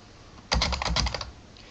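Fingers typing on a computer keyboard during a translation software tutorial: a quick burst of about a dozen close, crisp key clicks lasting under a second, then quiet.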